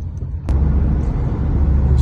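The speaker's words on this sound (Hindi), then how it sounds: "गाड़ी 60 की स्पीड से जा रही है" A car travels along a city road in traffic at about 60 km/h, a loud steady low rumble of engine and tyre noise after a brief thump, with no voices.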